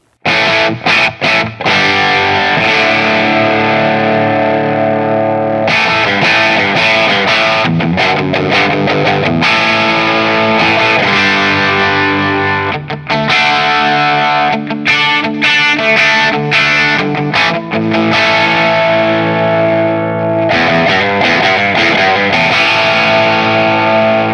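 Overdriven electric guitar on the bridge pickup of a budget Telecaster-style build, playing loud, crunchy chords and riffs with gritty distortion, bright and punchy, with brief gaps between phrases.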